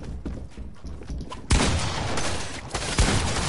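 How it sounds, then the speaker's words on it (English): Battle royale gunfire crackles through a video game, with two sharp, loud shots landing about a second and a half apart over dense, continuous firing and rumble. "Who's shooting at me, bro?"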